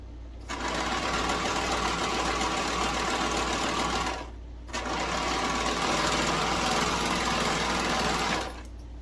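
A serger runs over thread tails on a tee shirt in two steady, fast-whirring bursts with a short pause between them, loud and close.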